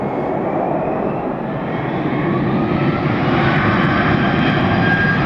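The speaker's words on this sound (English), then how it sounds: "Está yendo el avión, está yendo." A fixed-wing airliner passes at Atlanta Hartsfield airport, its engines giving a loud, steady roar that swells slightly toward the end, with no talk over it.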